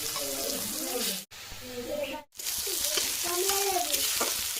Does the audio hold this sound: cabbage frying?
yes